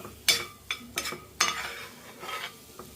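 A spoon stirring thickening sweet syrup with ghee in a pan for festival prasadam, several close scraping strokes against the metal in an uneven rhythm, fairly quiet, with no talking.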